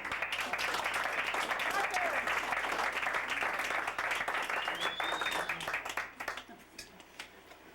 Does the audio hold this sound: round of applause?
yes